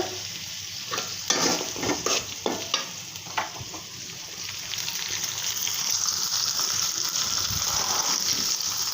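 Onion, garlic and green chillies sizzle in a pan for a shutki curry with radish and potato, with a string of close spatula scrapes and taps early on, then an even, rising hiss of frying with no talking.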